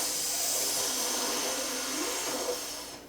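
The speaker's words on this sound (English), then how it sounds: "Suck in through your teeth." Breath sucked in through the teeth during a guided breathing exercise, a steady hissing intake close up that runs for about three seconds before trailing off.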